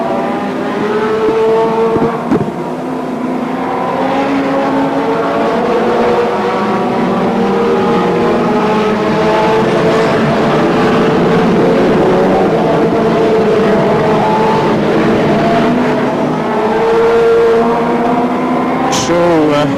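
Brisca F1 stock cars race around a short oval at Northampton in 1994, with continuous loud engine roar that swells and fades as the cars pass, and a commentator talking over it.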